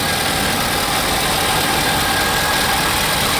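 A 2015 Ford F250 Super Duty 4x4 with a turbo diesel engine idles at an auction, a loud, steady, close rumble with a constant whine on top and no voices.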